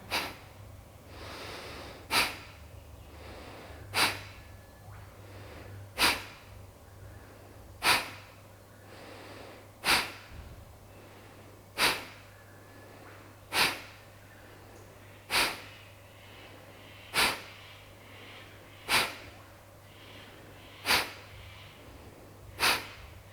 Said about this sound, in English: Inhale, push your belly out. Breath of fire.